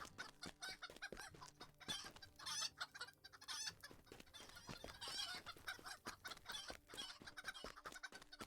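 Chickens clucking in Lord of the Rings Online during a chicken run in the Trollshaws, repeated close clucks and squawks in bursts, with occasional crowing-like calls over game ambience.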